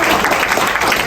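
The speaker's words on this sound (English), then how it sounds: "Clap for her." An audience at a Pan-African young leaders fellowship gathering claps for a speaker, with a short burst of loud, dense applause.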